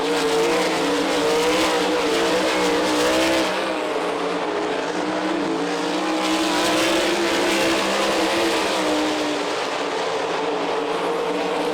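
Sprint cars race on a half-mile dirt track in Eldon, Iowa, producing a continuous loud roar of engines with rising and falling revs as the pack passes in traffic.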